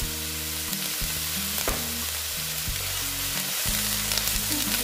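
Onion fries in a pan for a pomfret fish curry, giving a steady, close sizzle with occasional stirring under a low background hum.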